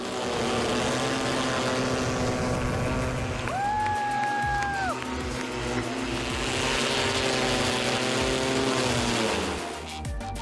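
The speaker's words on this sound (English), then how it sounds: "How many engines does this aircraft have?" A 36-engine regional aircraft in flight gives a steady, continuous propeller drone with shifting tonal whines, heard from a moderate distance without speech.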